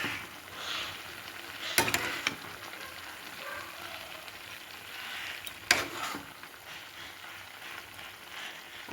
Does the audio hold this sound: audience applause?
no